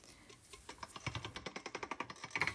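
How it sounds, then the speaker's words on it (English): Polymer clay being fed through a hand-cranked pasta machine, giving a steady run of rapid, evenly spaced clicking ticks from the rollers, close and fairly loud with no talking. "I'm going to start passing it through the pasta machine"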